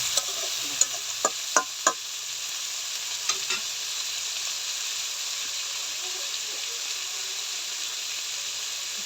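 Mixed vegetables frying in a pan, a steady hiss of sizzling oil with a handful of sharp stirring clacks early on, then continuous frying alone.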